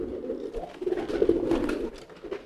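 A kolong homing pigeon coos up close in a series of soft, throaty, rolling phrases that swell and fade over a couple of seconds, alone with no talk.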